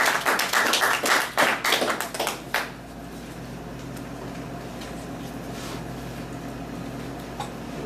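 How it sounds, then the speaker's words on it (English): Several quick hand claps from an audience, bunched in a short burst at the start, then cutting off into a steady low room hum with no voices. "Clap them up."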